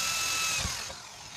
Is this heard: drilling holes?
yes